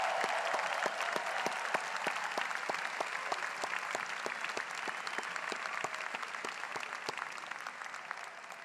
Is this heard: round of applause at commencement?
yes